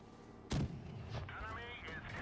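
A tank cannon fires in the mobile game World of Tanks Blitz, one sharp booming shot followed by a fainter thump, under game background noise and a voice.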